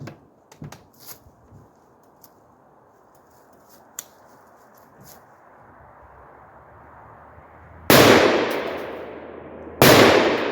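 Palmetto PA-10 Gen3 AR-10 rifle fired rapidly at a small target 200 yards out; two sharp, loud gunshots ring out near the end, separated by about two seconds, after a long quiet stretch with faint background noise.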